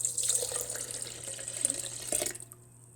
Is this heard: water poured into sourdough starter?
yes